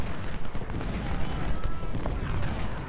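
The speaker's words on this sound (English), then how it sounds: "we do have 4 artillery shooting" Artillery fires during a battle in Ultimate General: Civil War, heard as a dense, continuous roar of booming gunfire and rumble with overlapping shots at steady loudness.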